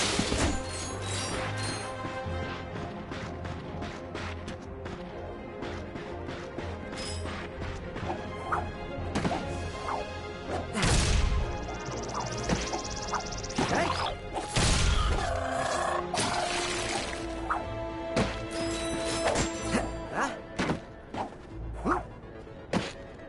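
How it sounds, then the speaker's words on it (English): Repeated crashing and smashing impacts of crates being broken apart in a Ratchet & Clank-style video game come in irregular bursts over a busy game soundtrack with occasional thuds. "Look at him smashing crates."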